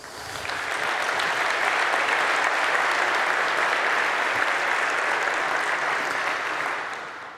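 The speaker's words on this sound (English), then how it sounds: "Please join me to give them a big round of applause." A large conference keynote audience applauds the program committee, a full, dense roar of clapping that swells in, holds steady for several seconds and tapers off at the end.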